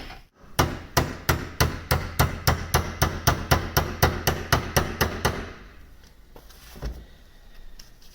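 Roughly twenty sharp, evenly spaced hammer blows strike a steel punch to drive out a ball bearing in a Vauxhall Vectra 2.2 Direct Z22YH fuel pump, loud and close, then stop, leaving a couple of faint knocks.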